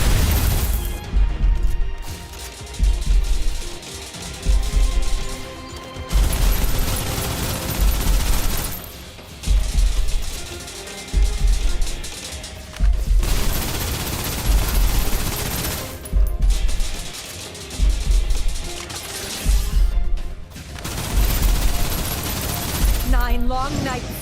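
Sustained suppressive gunfire in the Snowbreak video game, loud repeated automatic bursts with heavy booming impacts, broken by a few brief pauses, with game voices mixed in.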